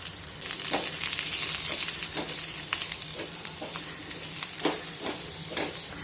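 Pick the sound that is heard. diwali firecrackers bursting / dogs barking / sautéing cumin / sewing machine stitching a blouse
sautéing cumin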